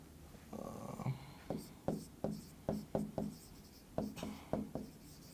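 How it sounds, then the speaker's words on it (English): Chalk or marker writing during a physics lesson, a close series of about ten distinct tapping and scraping strokes in an uneven rhythm, one longer scratch near the start, with no speech. "so let me write over here"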